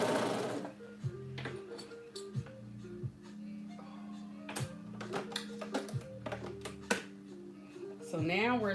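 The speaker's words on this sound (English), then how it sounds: "So now we're sewing" A home sewing machine runs in short, uneven bursts with a rhythmic ticking, while a woman keeps chatting over it.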